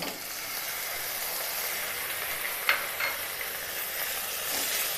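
Chicken mince fries in a pan over lightly fried ginger and garlic for Mughlai paratha filling, giving a steady close sizzle with a couple of brief scraping stirs partway through.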